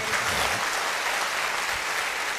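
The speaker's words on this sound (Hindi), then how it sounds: "मैं चाहूंगा एक बार जबरदस्त तालियां मेरी मां के लिए मार दीजिए" An audience at a motivational talk on direct selling applauds in a dense, steady wash of clapping that carries on without a break and without speech.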